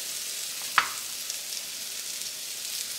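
Chunks browning undisturbed in a frying pan give a steady, quiet, even sizzle with a single faint tick near the start.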